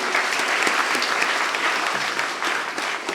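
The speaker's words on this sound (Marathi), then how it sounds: "तर आपले दोन्ही फादरांचं आपण टाळ्या वाजवून स्वागत करूया" A church congregation applauding at a Mass and novena to welcome two priests, loud continuous clapping from many hands that fills the whole stretch without any talk.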